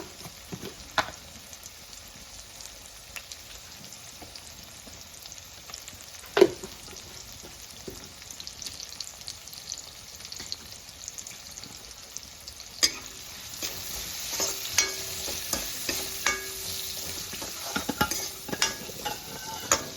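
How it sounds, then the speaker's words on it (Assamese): Turmeric and salt fry in a pan with a low, steady sizzle, plus occasional stirring scrapes and light clinks of a utensil. The sizzle grows a little louder and busier in the second half. "এইটো যেতিয়ালৈকে গলি যায় তেতিয়ালৈকে ভাজিম।"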